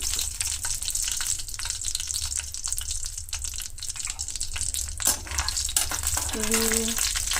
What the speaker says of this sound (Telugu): మీడియంలో పెట్టి వేయించుకుంటే బెటర్ ఎందుకంటే మాడిపోకుండా